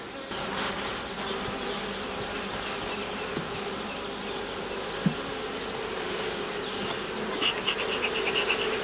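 Honeybees buzzing steadily at an open alpine-style beehive, a dense continuous hum close by with a few faint knocks from handling the hive.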